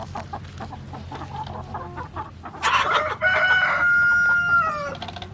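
Meat chickens clucking and calling for food, a busy flock murmuring nearby with one louder crow-like call rising in the middle, loud and close, no talk.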